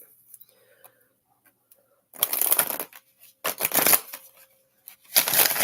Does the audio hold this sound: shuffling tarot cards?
yes